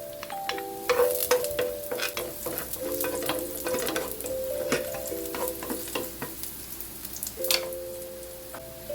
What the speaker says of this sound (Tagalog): Ayan, mainit na yung ating mantika. Pwede na natin ilagay yung ating bawang.